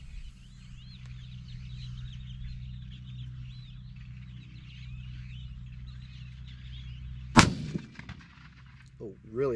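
A single loud .308 rifle shot fired while sighting in for deer season outdoors, breaking a quiet stretch of low rumble and faint birdsong, with a short echo after it.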